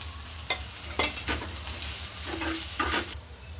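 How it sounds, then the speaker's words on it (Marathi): Onion fries in oil, sizzling steadily at close range while a utensil scrapes and stirs several times, then the sound drops off abruptly near the end, with no speech. "तर आता इथं कांद्यामध्ये मी तेल टाकून भाजणार आहे, म्हणजे मग लवकर भाजला जाईल कांदा।"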